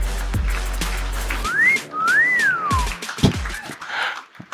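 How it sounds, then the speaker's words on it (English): A person whistles a few rising and falling notes, including one long swooping tone, amid room noise and a couple of thumps. "that was a fantastic whistle"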